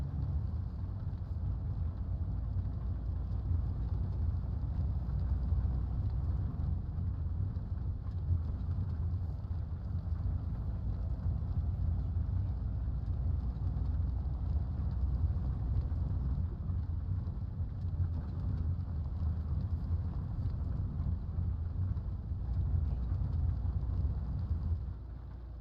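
Steady rain and rumbling thunder in the Euro Truck Simulator 2 driving game, a continuous loud low wash with no pauses or talk.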